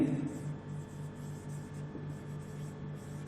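Marker or chalk scratching across a board during a Hindi-medium lecture, soft rhythmic strokes close by, with faint room noise and a trace of voice.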